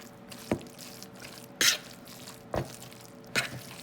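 A fork stirs cream cheese into a hot taco-pocket filling, with four soft, wet squelches and scrapes spaced about a second apart over a faint sizzling background.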